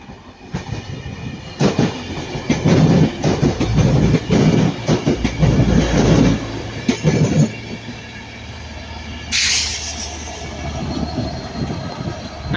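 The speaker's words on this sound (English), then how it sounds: "Transport for Wales, Class 82 Mark 4 set. Can't miss this one. Going from Cardiff Central to Manchester Piccadilly" A Transport for Wales Class 82 Mark 4 set running from Cardiff Central to Manchester Piccadilly passes close and loud at Ardwick, with a rumbling roar, clattering wheel beats and a sharp squeal near the end as it fades.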